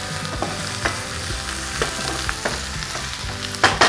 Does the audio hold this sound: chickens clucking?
no